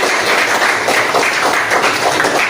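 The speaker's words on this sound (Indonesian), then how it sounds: "Tepuk tangan buat Habibie." Schoolchildren in a classroom clap together for a classmate, a steady, dense patter of many small hands that holds at an even level throughout, with no voices over it.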